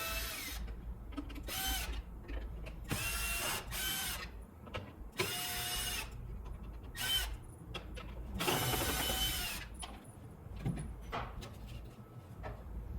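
Outer cover taken off a saw motor during a tune-up, with bursts of a power driver whirring, screw ratcheting and plastic clicks, close and alone with no talk.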